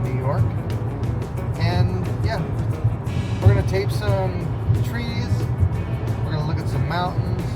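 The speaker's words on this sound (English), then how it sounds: "we're just going to drive along the road here" A car cruises along Highway 87 in the Adirondacks region, its engine and tire noise a steady, close low rumble that runs unbroken throughout while a person talks over it.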